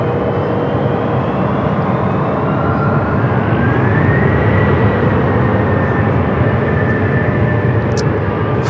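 Loud, continuous engine and propeller roar from a 19-year-old Southern Airways Express Cessna Grand Caravan, a broad steady drone with a faint rising whine, close and dominant throughout.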